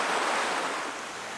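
A river flowing steadily, a dense, even wash of rushing water that fills the whole short moment without pauses, close and fairly loud with no voices.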